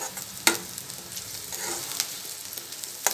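Onions fry toward brown in a pan with a continuous soft sizzle, punctuated by a few sharp clicks of a spoon stirring, heard close with no voices.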